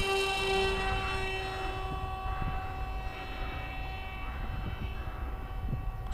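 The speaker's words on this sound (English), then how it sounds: "Starting motor." On a Skywalker 1900 FPV plane, the motor spins up for an auto-launch with a faint, steady tonal whine and a few light knocks and clicks in the background.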